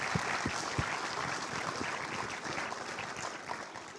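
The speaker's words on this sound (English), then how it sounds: "another round of applause" Audience at the 2022 Queensland Australian of the Year Awards ceremony applauding steadily for a Young Australian of the Year winner, a dense, even wash of clapping through the whole stretch, with a few sharper claps near the start.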